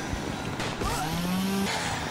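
A chainsaw in a horror video game from the PC Cursed 98 demo disc, a loud, gritty engine drone running throughout, its pitch rising and sliding partway through as it revs.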